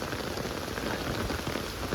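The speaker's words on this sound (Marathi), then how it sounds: "कडकवाला पाऊस पडायला लागलेला आहे भाई." Heavy monsoon rain pours down in Kurla, Mumbai, a dense, loud, continuous hiss of drops striking surfaces, with no voices.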